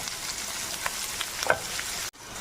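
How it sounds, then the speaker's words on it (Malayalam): Onion, garlic and ginger sautéing in a pan for an egg curry make a steady broadband sizzle, with a few soft stirring scrapes and a brief clink before a short drop-out near the end. "ഇതെല്ലാം കൂടി ഇട്ട് നല്ലോണം ഒന്ന് വഴറ്റിയെടുക്കാം"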